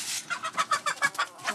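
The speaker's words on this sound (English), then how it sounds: "this is the mother of all the chicken with the short legs" A short-legged hen on a Tanzanian village farm clucks in a quick, rhythmic run of about eight close, fairly loud clucks with no talking.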